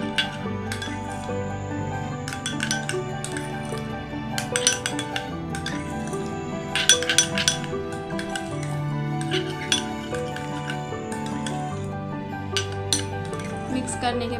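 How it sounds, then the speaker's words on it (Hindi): Vitamin E capsule oil being stirred in a small bowl, with light repeated clinks and scrapes of a utensil against the dish over soft background music. "अब हम इन दोनों को अच्छे से मिक्स कर लेंगे"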